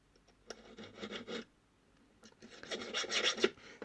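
Metal file rasping against steel pliers while reshaping a jaw, heard in two close bursts of repeated scraping strokes separated by a short pause, with no talk.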